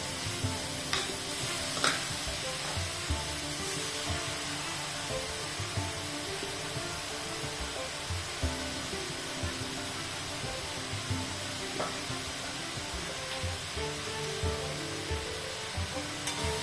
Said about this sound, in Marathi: छान पाच ते दहा मिनिटासाठी मस्त असे परतवून घ्यायचे